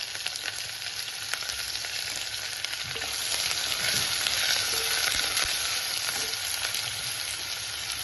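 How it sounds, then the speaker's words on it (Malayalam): Mustard seeds crackling in hot oil in a pan, a continuous close sizzle with faint scattered pops and no speech. "ആ കടുക് ഒന്ന് അവിടെ കിടന്ന് പൊട്ടട്ടെ."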